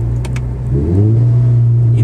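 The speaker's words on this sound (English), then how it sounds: "I like to hear a rev match and downshift" Engine of an automatic Toyota FR-S in sport manual mode rising in a short rev, then settling into a steady low drone with a brief rattle early on.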